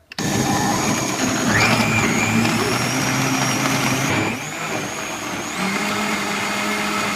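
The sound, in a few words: blender running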